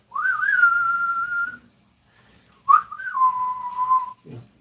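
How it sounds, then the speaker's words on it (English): A person whistles the Clint Eastwood film tune: a long rising-then-held whistled note, a pause, then a sharp upward flourish and another sustained falling note, close and clear. "That's the Clint Eastwood whistle."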